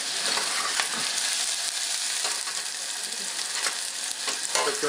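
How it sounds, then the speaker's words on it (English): Food sautés in a pot for pork spare ribs, producing a loud, continuous dense sizzle with occasional stirring scrapes rising above it. "So it's going to saute just for a few minutes."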